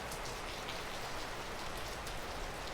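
Heavy, gusty rain in Northern California pours in a steady dense hiss with scattered drops striking surfaces, close and continuous with no voices.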